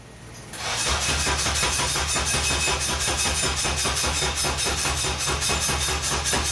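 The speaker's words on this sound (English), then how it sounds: "we're gonna crank it so we can prime the engine" A Mitsubishi Starion engine, K-swapped, cranks over to prime it, with a fast, steady rhythmic churning that starts abruptly and continues loudly and close without catching.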